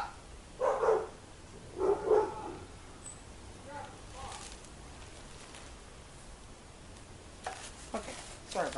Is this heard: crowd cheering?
no